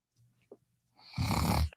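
A reader voice imitates a snore while reading a toddlers' storybook aloud: a faint murmur, then one loud, rough, drawn-out snore rising near the end.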